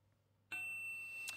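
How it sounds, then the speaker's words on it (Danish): A text message notification on a phone: a single bright ding that rings on with a sustained metallic tone, quiet and close, with a faint tick near the end. "kommer der en sms"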